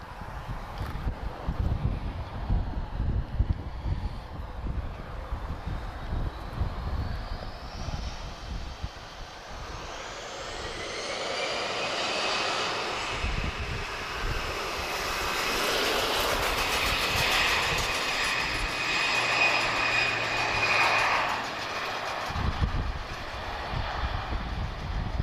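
EasyJet airliner jet engines at Lisbon Airport make a broad, steady roar that slowly builds and shifts in pitch. A rising whine comes through midway, with wind buffeting underneath.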